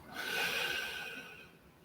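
A deep, steady exhale through the nose during a yoga session, a soft breathy rush that swells early and slowly fades over about two seconds, close and alone with no talking.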